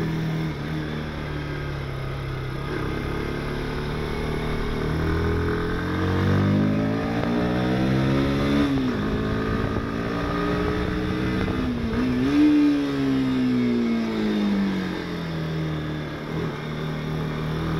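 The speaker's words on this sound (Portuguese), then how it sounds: "fique com o som do motor aí para acompanhar" A 160cc motorcycle engine, CG 160 Fan, Dominar 160 or Haojue DR 160, revs steadily and then drops through a hard downshift with braking on a straight. The pitch sweeps sharply up and down as gears change, loud and close.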